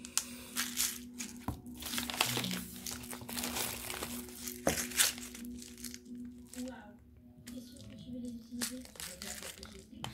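Plastic wrapping crinkles and rustles while tape tears from a package being opened by hand, with a steady, close stream of crackling. A person speaks French intermittently over the handling.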